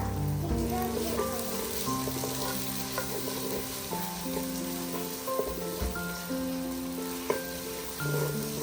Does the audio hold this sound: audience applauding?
no